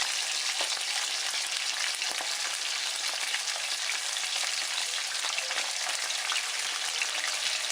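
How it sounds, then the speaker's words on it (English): Salmon frying in oil with a few slivers of onion, a dense, even crackling sizzle that holds steady and close for the whole stretch, with no voices. "I usually put my onions in my fire with my salmon"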